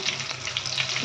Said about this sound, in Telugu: ఆయిల్ అయితే హీట్ అయిందండి. దీనిలోకి అయితే 4 ఎండుమిర్చి